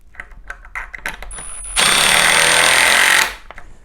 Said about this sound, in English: now we are going to be doing the 1" and 5/8 screws with the Milwaukee Surge